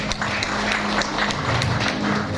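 Applause from an audience at a seminar or company presentation, a short burst of scattered clapping with irregular sharp hand claps spread across the whole moment, moderately loud and close.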